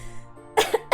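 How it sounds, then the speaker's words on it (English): A short burst of coughing, two or three quick harsh coughs close up following a faint held tone, sounding like someone clearing their throat while reading aloud. "here we are back with the coughing"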